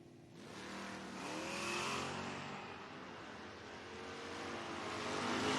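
Drag racing launch of a 1991 Mustang and a 1969 Camaro at a footbrake drag race, with loud, sustained engine roar building and holding throughout, close by, with no talk.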